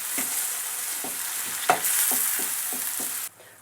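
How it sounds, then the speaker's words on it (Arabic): Onions with a full mix of spices and parsley frying in a pan, a steady close sizzle with repeated stirring scrapes at a loose rhythm, alone with no talk, and the sizzle drops away near the end. "البصله ديالنا راه تقلات مزيان"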